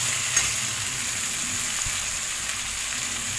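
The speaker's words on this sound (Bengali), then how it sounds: "আমি ভালো করে আলুর সাথে এটা কষিয়ে নিচ্ছি। দিয়ে দিলাম লবণ। লবণ দিয়ে একটু ভালো করে কষিয়ে নিচ্ছি।" Potatoes with salt and spices sauté in a pan with a steady, close, hissing sizzle that holds evenly throughout, with no voices.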